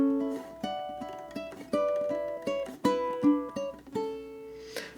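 A ukulele picks out a flowing classical melody, plucked notes ringing clearly one after another at a moderate pace, with no voices.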